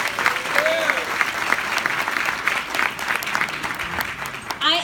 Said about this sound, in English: Can we give a round of applause for all the women of color in this room?